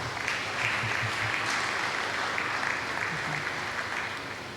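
A crowd at a Rivers State government ceremony handing a helicopter to the Nigerian Air Force applauds steadily, a dense even wash of clapping that holds for several seconds before easing slightly.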